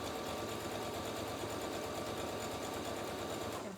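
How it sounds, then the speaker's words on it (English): A sewing machine stitches fabric at the corner of a face mask over elastic, running at an even fast rattle without pause, close and steady. "I'm going to sew on to the corner, catching that elastic."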